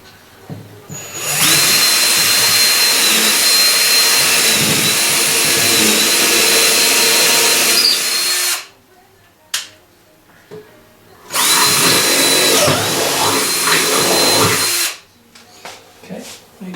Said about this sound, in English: I'm just going to drill a hole in line here.